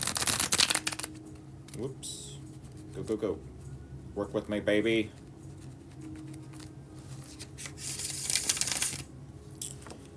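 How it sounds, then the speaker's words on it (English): Playing cards riffle in a few quick crackling bursts during a bridge shuffle, close to the mic, with a person talking briefly in between. "That was the bridge shuffle."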